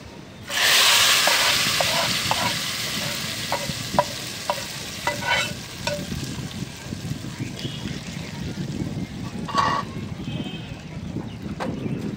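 Fried onion tempering is poured into a pot of thin rice khichuri in a village kitchen, setting off a sudden loud sizzle. Steady frying hiss follows, broken by rhythmic scraping and clicking as it is stirred in.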